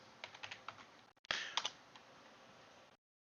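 Keys clatter on a computer keyboard as a short command is typed, a quick run of separate taps followed by a louder burst of keystrokes, close and clear with no talking.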